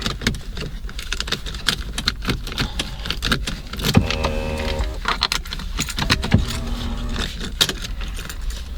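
A key goes into the ignition of a 2004 Lexus RX 300, heard as close rattling and jingling of keys with a few sharper metallic clicks, no speech.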